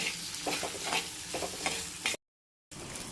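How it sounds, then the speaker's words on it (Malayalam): Okra pieces with salt stirred while sautéing in a pan: a steady frying sizzle with repeated scraping strokes from the stirring, close and moderately loud, cut off briefly by a gap of silence before resuming. "ഇതിലേക്ക് ഉപ്പിട്ട് കൊടുത്തിട്ട് നല്ലതുപോലെ ഒന്ന് ഇളക്കണം"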